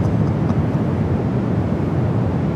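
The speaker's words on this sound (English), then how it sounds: "the Dreamliner heading to Seoul, now rolling down to 28 left" A Boeing 787 Dreamliner bound for Seoul rolls down runway 28 left at San Francisco airport, heard as a steady, distant jet engine roar with wind rumble and no voices.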